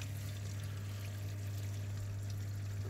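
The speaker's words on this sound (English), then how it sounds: "I pour a lot of the water out of the bag so there's less" Water poured out of a bag holding sea urchins makes a steady, continuous stream with a strong low hum underneath. It runs evenly throughout with no talk.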